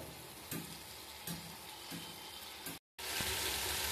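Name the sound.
vegetables and spices being sautéed for khichuri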